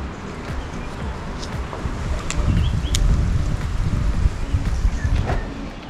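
Wind blows steadily in a low, rushing rumble in Johannesburg, South Africa, swelling slightly in the middle, with faint clicks and rustles scattered throughout.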